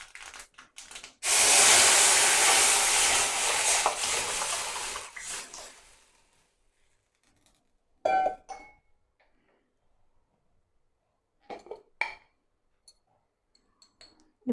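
Rasam poured into a hot pan of spluttering chillies, mustard seeds and asafoetida tempering, for Keezhakarai-style coconut milk rasam, gives a loud burst of hissing sizzle that slowly fades over several seconds, followed by a few faint clinks.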